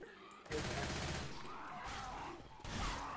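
Rapid automatic gunfire from a zombie shooter game, Left 4 Dead, in dense sustained bursts with a brief pause midway, loud and close, with no talking over it.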